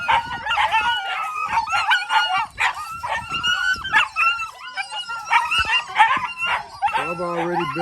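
A group of puppies keeps up nuisance barking, with rapid yips, yelps and short howls overlapping loudly nearby, ending in a drawn-out whining howl.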